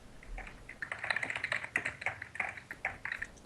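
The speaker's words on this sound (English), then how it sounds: "I completely forgot that my keyboard explodes your ears." Clacky computer keyboard typed rapidly, a dense run of sharp close keystrokes with irregular rhythm, heard alone without speech.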